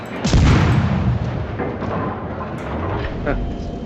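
Boat-mounted guns firing in a video game: a heavy boom up front, then scattered shots and thuds, with someone talking excitedly over the gunfire.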